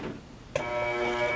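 A sewing machine starts up with a sharp click and runs in a steady, close mechanical whir, stitching a line across a skirt placket.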